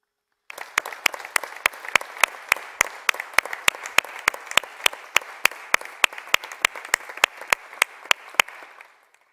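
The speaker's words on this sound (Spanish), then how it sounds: "hagamos un aplauso en homenaje a Micaela y a esta ley" A Senate chamber audience claps in unison as a homage, a long run of sharp, evenly spaced claps with lighter scattered clapping beneath, steady for about eight seconds before stopping.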